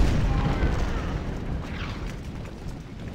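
Cannon fire from artillery in Ultimate General: Civil War, a low rumbling boom that rolls out and slowly fades over a few seconds, with no speech over it.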